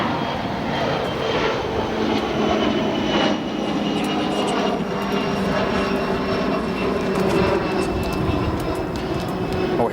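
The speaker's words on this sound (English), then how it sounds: "A lot of aircraft struggling to find gates as aircraft are arriving early if they're coming from the west due to the tailwind" Jet airliners at O'Hare International Airport, with a steady, loud engine roar that fills the whole stretch without a break.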